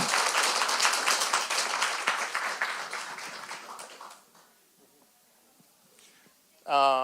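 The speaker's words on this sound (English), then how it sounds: "Give him a round of applause" A round of applause from a small gathering at a Bible quiz event, clapping steadily for about four seconds, then thinning and fading into near silence before a voice briefly starts speaking at the end.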